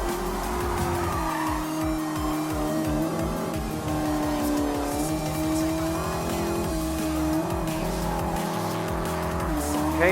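Maserati GranTurismo S racing in the Gran Turismo Sport video game, a steady loud engine drone rising and falling through gear changes, with tire squeal and skidding throughout and no pauses.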